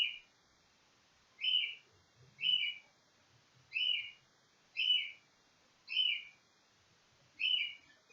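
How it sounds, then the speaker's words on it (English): A pet bird gives a run of six bright, sharp chirping calls spaced about a second apart, loud and close, excitedly directed at a male bird, with faint low rustling underneath. "Little Beau's going crazy at the male"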